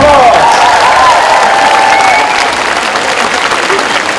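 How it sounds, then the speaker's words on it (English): Loud applause from a university lecture audience in Malaysia, with a few cheers and whoops rising over the clapping near the start before the steady clapping carries on alone. "Give yourselves a round of applause"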